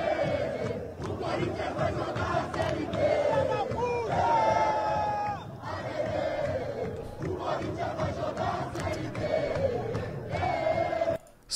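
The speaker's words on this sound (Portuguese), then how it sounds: "olha o que a torcida vascaína cantou para o Corinthians ao término dessa partida" Vasco supporters chanting in unison at Corinthians after a Brasileirão match, a loud rhythmic stadium chant with rising and falling phrases that continues steadily.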